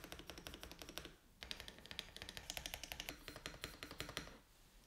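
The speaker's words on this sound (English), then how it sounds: "I can't quite give you a full sound test of this keyboard" Rapid typing on a 100 Thieves Higround mechanical keyboard, close and crisp, a steady stream of clacky keystrokes with a short pause, no talking.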